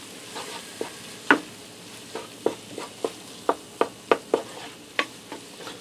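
Hamburger mixture with sprinkled flour is stirred in a pan: a steady run of a dozen or so sharp spoon scrapes and knocks, close and moderately loud, over a soft low sizzle with no talking.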